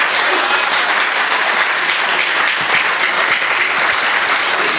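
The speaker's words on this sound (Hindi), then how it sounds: "एक बार जोरदार तालियां इनके लिए होनी चाहिए।" Loud, vigorous applause from an audience at a mushaira poetry gathering in Pune, dense clapping that stays strong and unbroken from start to finish.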